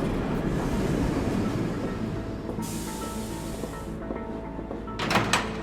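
A tram ride is heard as steady rumbling rail noise with a broad hiss midway and sliding door-like clatter near the end, no talking.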